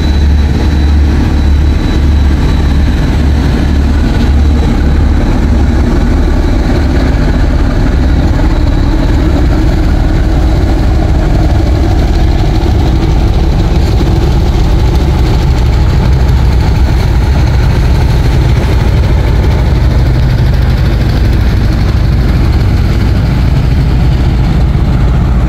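The passenger launch MV M Khan Saad speeds along a river toward Dhaka Sadarghat, its heavy engine droning loud and constant with a deep low throb and broad rushing noise, unbroken for the whole stretch.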